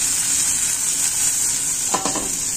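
Garlic, ginger and spring onion fry in a pan with a steady bright sizzle, broken near the end by a few clinks of stirring against the pan.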